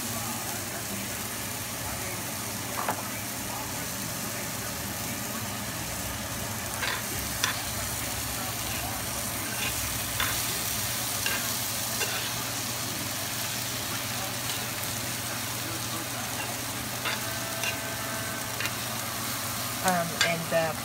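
Pork belly and pork ears frying for sizzling sisig, a steady, continuous sizzle with occasional scraping and stirring clicks, heard throughout at moderate volume with no talk.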